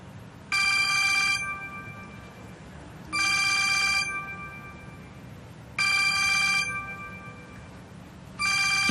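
A mobile phone ringtone sounds with a bright, tonal melody repeating in four bursts of about a second each, evenly spaced and loud, over a low background murmur in a quiet room.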